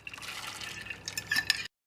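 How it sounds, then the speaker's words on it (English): Dry chana dal poured into a pot of water in a home kitchen, a short close splash and trickle of lentils into liquid with faint clinks, ending abruptly. "In goes the chana dal."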